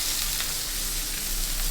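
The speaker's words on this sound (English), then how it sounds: "So this is the sound of sizzling fish fry in my kitchen." Continuous close sizzling and crackling of pomfret fish frying in hot oil in a pan over low to medium flame, steady and loud throughout with no voices.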